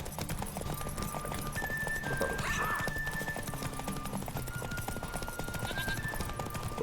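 Steady rhythmic hoofbeats of a horse galloping at full speed in The Witcher 3, continuous and close throughout, with game music and faint ambient effects underneath.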